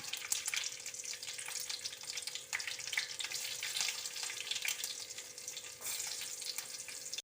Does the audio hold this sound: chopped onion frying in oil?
yes